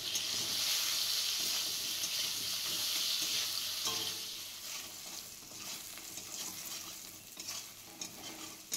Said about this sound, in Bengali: কাঁচকলাগুলো যখন ভাজবো তখন একটু নুন আর হলুদ দিয়ে দেবো